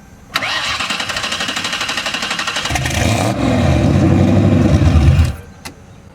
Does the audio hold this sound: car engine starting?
yes